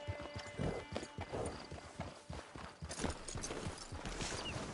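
Horse hooves clip-clopping at a steady trotting rhythm, close and fairly distinct against faint background noise, with no talk.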